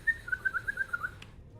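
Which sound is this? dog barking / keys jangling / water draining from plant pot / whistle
whistle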